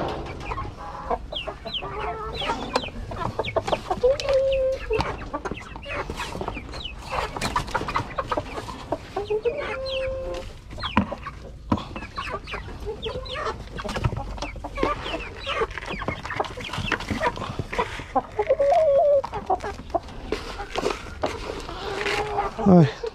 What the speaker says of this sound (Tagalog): Ito na yung mga ano, mga sisiw dati, malalaki na sila mga kanaypi.